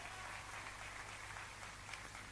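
Church congregation applauding during a sermon, a steady dense wash of clapping from a large crowd, fairly faint and distant, with a low hum underneath and no talk.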